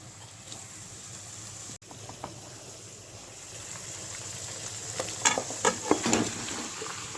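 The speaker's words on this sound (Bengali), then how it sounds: "এদিকে পেঁয়াজটা হালকা লালচে আভা এলে এর মধ্যে দিয়ে দেবো ম্যারিনেট করা মাটনটা" Marinated mutton fries with onions in a pan, a steady low sizzle that intensifies near the end, with clinking and scraping from stirring.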